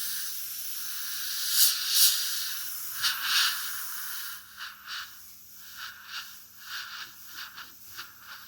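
An airbrush sprays Createx paint close by, sending out soft hissing puffs. A few longer bursts come first, then shorter, quieter spurts in an irregular rhythm.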